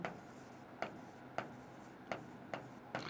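Pen strokes writing an equation by hand during a class 10 maths lesson, several quiet scratchy strokes in an uneven rhythm, close and faint.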